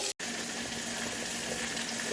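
Cold water runs steadily from a tap into a pot of pasta, a constant gushing stream with a brief gap at the very start.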